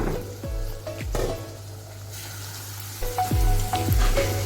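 Goat brain masala cooking on a low flame gives a soft, steady sizzle, with a few clinks of pan or utensil against it and no voices.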